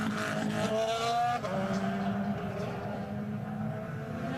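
An IndyCar race car at the 2011 Barber race accelerates back onto the course, its engine note rising and sweeping as it pulls away, loud and close, with a commentator talking over it.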